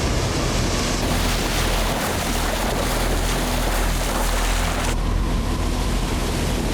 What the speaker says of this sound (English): From an opening 90 miles wide and 12 miles deep, water now gushed out.